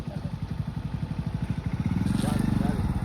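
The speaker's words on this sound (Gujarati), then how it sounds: "આ કોઈ એક્ટિવા વાળો આવે જ છે" An Activa scooter's small engine draws closer on a roadside, its steady pulsing putter growing louder and rising in pitch toward the end, with voices speaking over it.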